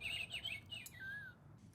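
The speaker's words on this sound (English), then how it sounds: "When a bird calls from the clock, I look at my list and name which bird called out loud." A bird clock in a workshop chimes its recorded bird call: a quick series of high chirps and trills, then a single sliding whistle fading out, thin and small-speaker sounding with no talk.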